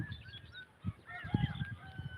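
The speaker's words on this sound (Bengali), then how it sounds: "দেখুন অসাধারণ একটি কাকাটেল পাখি" A caged cockatiel gives a few short, squawky whistling calls close by, mixed with soft low thumps.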